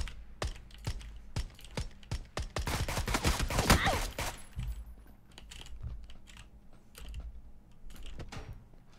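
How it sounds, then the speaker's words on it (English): Gunfire in PUBG: a series of sharp, clicky shots in irregular bursts, loudest in a dense cluster early on, then sparser and quieter. "Someone's shooting at us."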